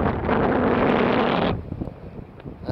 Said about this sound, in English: from being on top of this bank with this oncoming wind